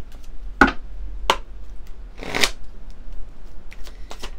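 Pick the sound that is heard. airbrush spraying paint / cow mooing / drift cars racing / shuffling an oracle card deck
shuffling an oracle card deck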